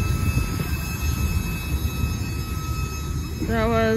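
A CSX Herzog train rolls past at Brunswick with a steady rumble of wheels on rail and a thin metallic squeal, ending with a rising tonal whine as the last cars go by.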